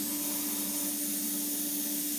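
Steady, continuous hiss of an airbrush spraying paint onto a 1/72 Airfix Vulcan scale model, a close, even airflow with a faint tonal whine running underneath and no pauses.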